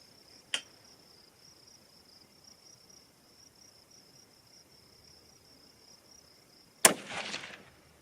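A Winchester 760 rifle fires Speer Impact 140-grain bullets outdoors: two sharp, loud reports several seconds apart, the second with a short ringing tail, over a steady chorus of crickets.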